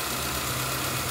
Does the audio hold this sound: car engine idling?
yes